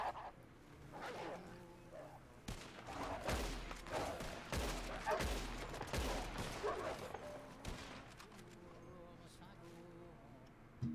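Gunfire in the roleplay game Northstar RP, a rapid burst of sharp cracking shots clustered in the middle, mixed with honking calls and a voice talking over the action.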